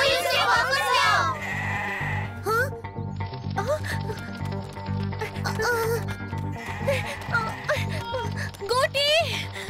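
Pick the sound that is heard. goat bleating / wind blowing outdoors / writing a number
goat bleating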